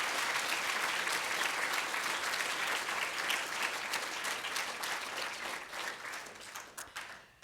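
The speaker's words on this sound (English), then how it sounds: "join me in just giving a round of applause for those staff" Applause from the audience at an autumn public service awards ceremony for staff: dense, steady clapping from many hands, fairly close and continuous, easing off slightly toward the end with no talk over it.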